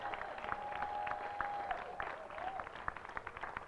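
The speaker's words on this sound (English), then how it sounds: "Give him a round of applause." A crowd at a community gathering on democracy and social justice applauds in a scattered, moderate patter of claps, fairly soft and steady for several seconds, with a faint sustained tone running beneath.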